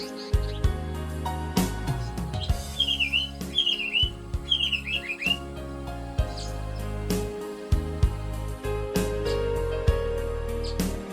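An African paradise flycatcher gives a few short, thin whistled chirps in quick clusters, faint and partly buried under steady instrumental music.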